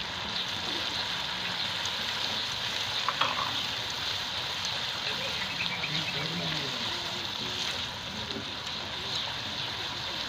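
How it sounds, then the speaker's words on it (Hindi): Green chillies and spices fry in a pan for beef korma, giving a continuous soft sizzle and crackle that holds steady throughout. "चंद मिनट इसे फ्राई करना है, चंद सेकेंड फ्राई करना है।"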